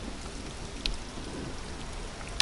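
Steady rain on a surface in the racing video game Gravel, a soft, even hiss with a faint sharp tick partway through, no talking.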